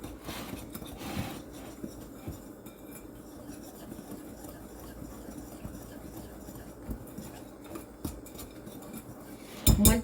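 Flour, brown sugar and salt are stirred together in a bowl for muffin streusel, giving soft, faint scraping and light clinks against the bowl, steady and close with no talking.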